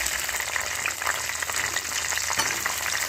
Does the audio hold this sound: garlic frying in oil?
yes